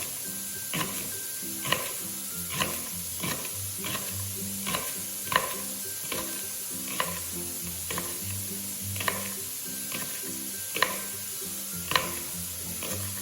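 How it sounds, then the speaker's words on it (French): Lardons frying in a pan, with a steady sizzle under regular scraping strokes of a utensil stirring them, roughly one each second, close up with no talking. "Faites bien revenir vos lardons"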